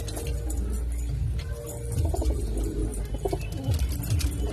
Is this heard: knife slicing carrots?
no